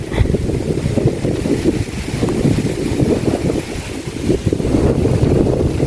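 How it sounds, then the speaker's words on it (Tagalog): Strong wind roars steadily against the microphone, a dense low rumble with gusting swells that never lets up. "Malakas po ang hangin"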